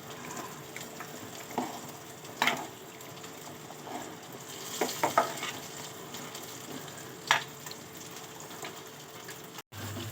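A sea-fish curry simmers at a rolling boil in a pot, with a soft, steady bubbling hiss. Occasional clicks and knocks rise over it, and the sound cuts out briefly near the end.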